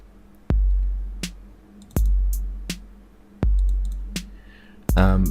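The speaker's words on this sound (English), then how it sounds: "So here's some hi-hats here." Hi-hat drum samples played back in Ableton, sharp metallic ticks in an uneven pattern with a few heavy low thumps under them and a quick rattling roll at the end.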